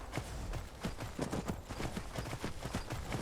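Steady, rhythmic clip-clop of horse hooves trotting at a brisk even pace in Skyrim, moderately close, with no talking.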